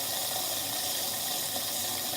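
A tap runs steadily into a sink while the water warms up before washing a dog, a constant close gushing hiss with no pauses and no voices.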